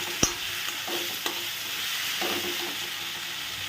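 Vegetables with a little salt being stirred in a frying pan, with a soft steady sizzle and a few sharp clinks of a spatula against the pan early on, fairly quiet and without talk.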